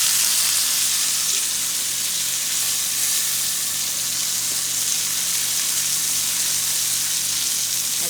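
Steak sears in a hot pan with a steady, close crackling sizzle that holds at an even level throughout, no voices over it.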